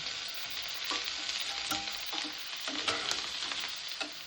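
Ginger paste and chopped tomatoes frying in hot oil for a bhetki fish curry, a close, even sizzle with intermittent spoon scrapes and clinks, no talking.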